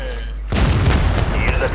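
A single heavy tank cannon shot firing a premium shell in World of Tanks, with a sharp loud boom followed by a rumbling, crackling tail that lasts over a second.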